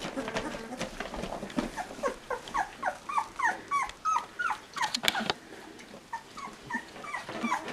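Young Bernese Mountain Dog puppies learning to walk as their mother approaches, with a quick series of close, high whimpers and yips under soft nearby noise.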